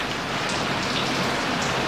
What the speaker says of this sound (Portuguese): começou uma chuva grandiosa aqui